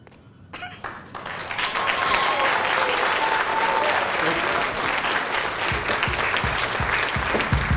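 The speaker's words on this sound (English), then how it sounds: "Thank you for the cheering." An audience at an eighth-grade poetry slam breaks into loud cheering and applause after a poem, swelling quickly and holding as a dense, continuous roar of clapping and whoops.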